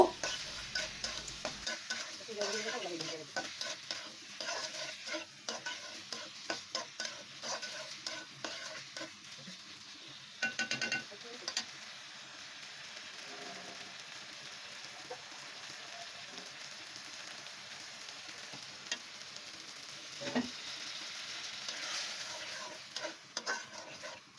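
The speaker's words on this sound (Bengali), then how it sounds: "এতে কলিজাটা অ্যাড করে দিব এটা দিয়ে খুব সুন্দর করে নাড়াচাড়া করে মশলার সাথে একদম খুব সুন্দর করে এটাকে কষিয়ে নেব" Liver tossed with spices in a pan, a long stretch of gentle, low frying sizzle broken by intermittent scraping stirs and a few louder clanks.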